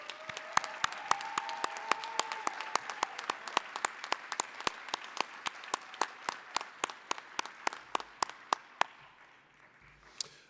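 At a community college commencement, an audience applauds graduates with sparse, distinct individual claps in a steady irregular patter that lasts throughout and fades slightly near the end.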